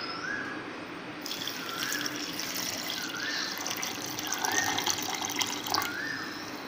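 Half a liter of water poured for a mint, ginger and lemon juice, a continuous splashing trickle with repeated rising chirpy tones over it, close and moderately loud with no speech.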